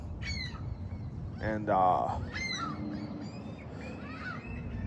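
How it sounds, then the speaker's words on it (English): Seagulls squawk and call in a few harsh bursts outdoors over steady wind-like noise, with someone talking briefly nearby. "fucking seagulls, retarded birds."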